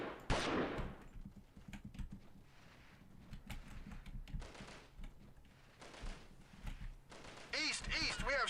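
Pistol and other gunfire in the 1998 Delta Force game, a burst of sharp shots near the start followed by scattered cracks and bursts of fire across the clip, loud against a busy game backdrop with no speech.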